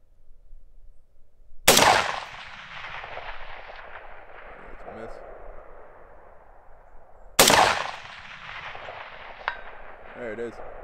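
Two sharp, loud rifle shots roughly six seconds apart, each with a long decaying echo, fired outdoors while sighting in a UUQ 3-9x40 AO scope; faint handling noise between shots.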